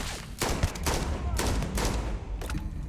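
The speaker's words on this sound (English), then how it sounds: "Oh, that's a grenade." Grenade blast in the video game Starfield, heard as several loud broadband bursts amid rapid gunfire-like cracks across a few seconds, with faint voices in the background.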